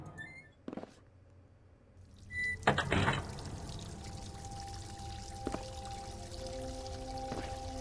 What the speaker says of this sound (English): Emptied and rinsed the shaker.